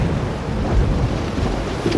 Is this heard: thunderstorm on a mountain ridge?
yes